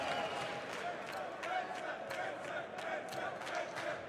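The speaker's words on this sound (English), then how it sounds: "And fans still cheering here in the semifinals" A crowd at an esports Major semifinal of Counter-Strike on the map Train, Astralis against NRG, cheering and shouting in a steady continuous roar, with a voice talking over it.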